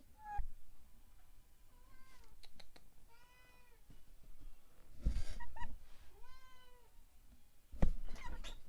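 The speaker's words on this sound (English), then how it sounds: "What are you meowing at?" A house cat meows repeatedly, several drawn-out rising and falling calls spaced across a few seconds, fairly close and clear, with light background noise and occasional bumps.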